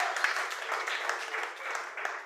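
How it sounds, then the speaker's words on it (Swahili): A church congregation applauding, a steady close ripple of many hands clapping that continues evenly for a couple of seconds. "Pigia Yesu makofi mazuri."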